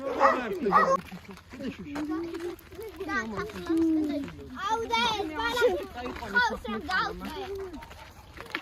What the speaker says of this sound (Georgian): ამტენი ძაღლები ყავთ.